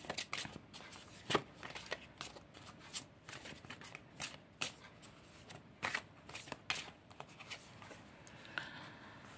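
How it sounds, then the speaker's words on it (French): Tarot cards are shuffled by hand in a steady run of crisp riffling snaps and soft slides, quiet and close, with no talking. "Donc on va battre les cartes tout de suite."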